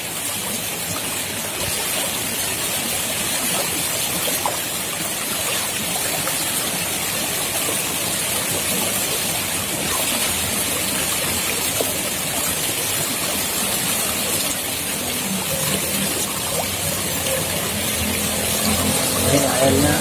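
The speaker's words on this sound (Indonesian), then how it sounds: "Ini airnya deras juga." Fast-flowing stream water rushes steadily with a constant broadband hiss during a fishing outing, with no breaks in the flow.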